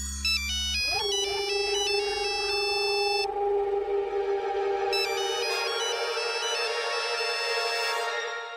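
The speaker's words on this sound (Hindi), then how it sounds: "अभी फोन बज रहा है" A loud electronic ringtone plays a repeating melodic pattern over a sustained tone, close and continuous, with no talking.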